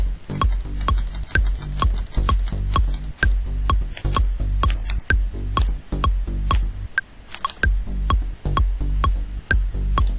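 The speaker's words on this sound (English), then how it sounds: "just using the arrows on the keyboard." Arrow keys on a computer keyboard are tapped in a steady run of crisp, close clicks, dozens of quick presses with brief pauses, while someone adjusts sidechain settings in music production software.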